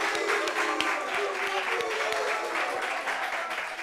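A studio audience applauds during a talk show gathering of celebrities' parents, with brisk, continuous clapping at moderate loudness and a few sharp individual claps standing out, lasting about four seconds.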